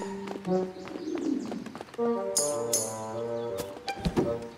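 Cartoon pigeons cooing in the puzzle adventure game Lost in Play, several soft rounded coos and chirps layered over light game music, close and clear, with no talking.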